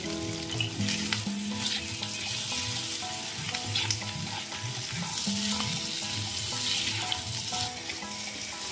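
Ingredients for chicken patiala sauté in a hot pan with steady close sizzling and frying and occasional stirring scrapes throughout, with faint tonal music underneath and no talk.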